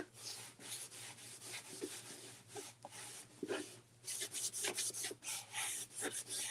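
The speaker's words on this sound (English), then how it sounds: "I want to wax this" Wax is rubbed by hand across a wooden DIY angel sign, giving soft, close scratchy strokes in an uneven rhythm, faint and with no talking.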